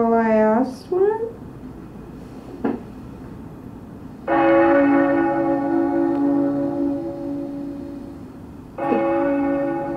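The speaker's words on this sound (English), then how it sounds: "It's just a bell tolling." Two deep tolls of a church-style bell ring out, each sustained and slowly fading with rich ringing overtones, the second arriving several seconds after the first; a voice speaks briefly at the start before the strikes.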